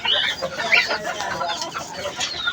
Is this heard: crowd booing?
no